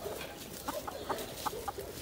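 Chickens on a rural farmyard give a series of short, fairly close clucks at an irregular rhythm over a steady background hum, with no talking.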